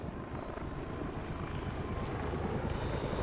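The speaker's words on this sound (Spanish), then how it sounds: "El helicóptero se pira." A helicopter in the video game Squad departs, its dense rotor thrum and engine roar droning continuously and loud throughout, without voices.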